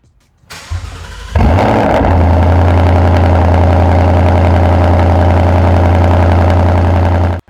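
A 2018-2023 Mustang GT V8 with an MBRP Race cat-back exhaust cranks and fires up with a loud roar, then settles into a deep, rumbling, steady idle close by before cutting off.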